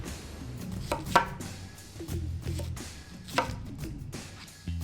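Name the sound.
homemade kitchen knife cutting vegetables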